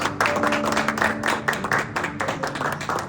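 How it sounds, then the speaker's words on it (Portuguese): A church congregation claps harder, a few seconds of steady, rhythmic applause close by, with a faint tonal hum of music or voices beneath the claps. "Aplauda mais forte, aplauda mais forte."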